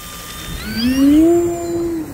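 Electric motor of an E-flite Commander mPd 1.4m RC airplane revving up for takeoff in a parking lot, a rising whine that climbs in pitch and holds steady, close and fairly loud over outdoor ambience.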